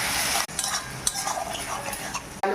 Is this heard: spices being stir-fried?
yes